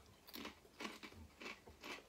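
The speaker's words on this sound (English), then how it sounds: "So they're a bit thicker, so they crunch a lot more." Thick deluxe French Brie and cranberry flavour crisps crunched between the teeth in four loud, close bursts of crackling bites at a steady chewing rhythm.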